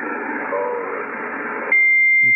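Yaesu FTDX5000 transceiver tuned to a weak 40-meter signal: steady hiss and static that abruptly shifts near the end as digital noise reduction engages, leaving a cleaner, processed tone with a sustained carrier whine.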